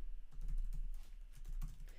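Quiet, rapid typing on a computer keyboard while writing JavaScript code, a soft irregular patter of key clicks close to the microphone with no talking.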